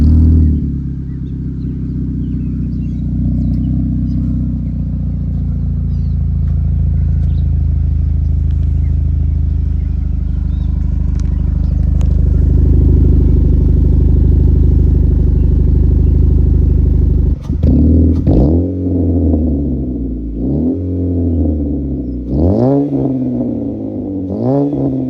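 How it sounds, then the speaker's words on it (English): Dodge Dart engine idling through a newly fitted exhaust, a loud, close, deep steady rumble that gives way to a few sharp revs and blips in the final seconds. "So that is the exhaust system that is on there."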